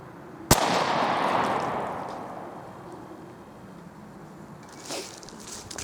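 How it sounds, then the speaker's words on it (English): A Remington 870 shotgun loaded with turkey shot fires a single sharp, loud blast outdoors, its echo trailing off over a few seconds. "let's take another shot with that 870, make sure we got it on target"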